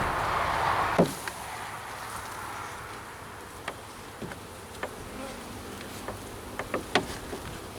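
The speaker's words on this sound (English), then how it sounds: "Oh yeah, there's plenty of bees in there though." Honey bees in an opened hive box during a spring inspection make a steady, close, humming buzz, with scattered sharp clicks and knocks from handling the hive frames.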